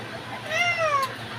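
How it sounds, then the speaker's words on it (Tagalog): A cat gives a single short meow, fairly close and clear, over a quiet indoor background. "Ay, manggugulo na yung pusa."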